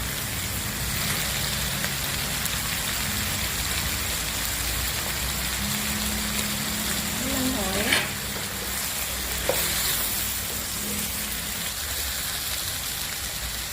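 Winter melon and pork belly stir-fry in a pan with a steady, dense sizzle throughout, broken by occasional scrapes and clinks of a utensil.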